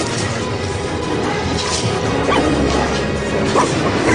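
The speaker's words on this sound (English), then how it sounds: "Hercules wrestles the dog to the ground." A huge mythical three-headed hound is wrestled to the ground and beaten, heard as a dense, loud clamor of crashing thuds and strained dog barks and whimpers, likely dramatized sound effects.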